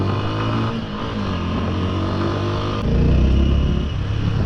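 A TVS Apache RTR 200 motorcycle, still in its break-in period, pulls away in first gear on the road, its engine droning steadily then rising in pitch and loudness as it accelerates near the end.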